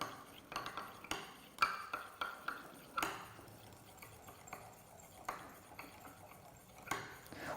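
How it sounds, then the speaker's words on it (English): A banana DNA extraction solution is stirred in a lab container: soft, irregular clinks and taps of a stirrer against the glass, quiet and close, with no voices. "And mix them."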